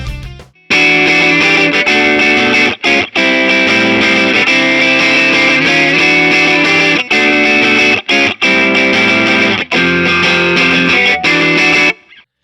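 An electric guitar played through an Effects Bakery distortion pedal set with the tone fully up, giving a bright, heavily driven sustained tone in loud strummed chords with a few brief pauses, alone without talk.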